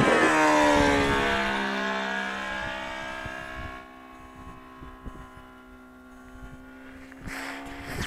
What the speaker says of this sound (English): Nice sounding little engine. Let's listen to it this time.